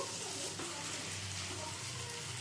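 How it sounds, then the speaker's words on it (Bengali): A little water hits a bitter gourd dish in a hot pan and is stirred in, giving a continuous soft hiss and bubbling sizzle with faint scraping beneath. "দিয়ে দিচ্ছি সামান্য একটু জল জল দিয়ে একটু নেড়ে ছেড়ে নেবো"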